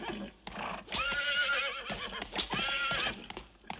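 A horse neighs loudly up close, a long shaky whinny with a couple of quick breaks, with faint hoof sounds at the start.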